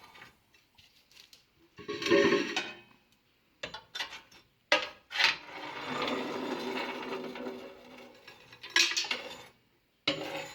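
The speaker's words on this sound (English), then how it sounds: "Use the scraper to get out any last bits of ash." A metal scraper rasps and clanks against the inside of a Stanley wood stove as the last ash is cleared out, in intermittent close scraping strokes with brief pauses between them.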